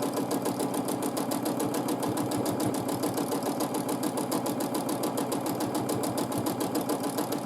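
A sewing machine runs steadily through close-set matchstick quilting on a feathered quilt, its rapid, even needle rhythm continuous and near, with no talk.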